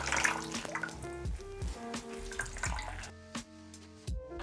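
Wet sphagnum moss is squeezed by hand over a bowl, giving faint dripping, trickling and splashing water sounds with soft squelches and quiet background hum.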